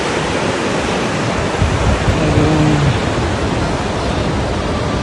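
A mountain river rushes through a gorge in Chechnya, a loud, constant broadband roar of churning water close by, with a faint voice briefly audible beneath it.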